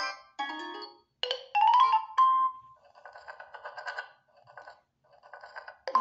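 Notification ringtones previewed one after another on a Vivo Y11 phone: short bright chimes and melodic tones, some fading into a quieter patterned jingle, played loud and clear with no talking.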